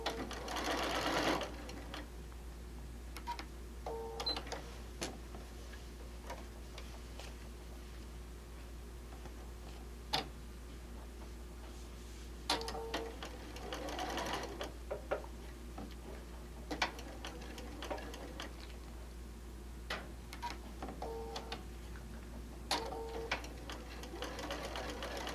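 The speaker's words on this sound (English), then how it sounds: "So we're going to go and we're going to sew across." A sewing machine stitches across a quilt made from a panel, a steady, quiet mechanical hum and tick running throughout, with occasional small clicks and taps from handling the fabric.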